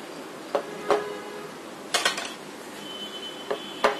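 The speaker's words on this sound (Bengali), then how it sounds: "এখন ডিমটা একটু ফেটিয়ে নিতে হবে" A fork or whisk beats an egg in a bowl, giving a few sharp, irregular clinks against the bowl over a quiet kitchen background, with no talking.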